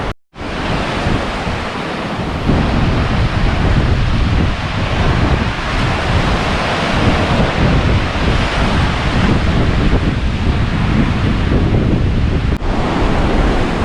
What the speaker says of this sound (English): I'm walking right over the water right now, and I can hear the ocean underneath my feet